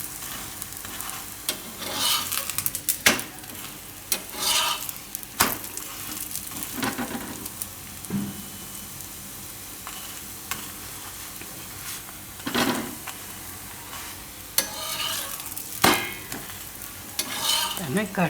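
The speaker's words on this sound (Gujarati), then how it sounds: "બે બાજુ એને આ રીતે શેકી લેવાનું." Spinach and sesame thepla flatbread roasting on a griddle, a soft continuous sizzle broken by repeated scraping and pressing strokes of a spatula and occasional clinks of utensils, close up with no talking.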